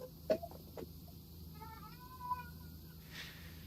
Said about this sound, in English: that's the cat noise